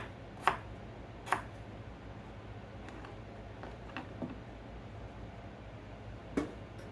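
Knife chopping food on a cutting board during breakfast prep for a frittata and egg-and-ham cups, a few faint, sparse taps spread apart over a quiet kitchen background.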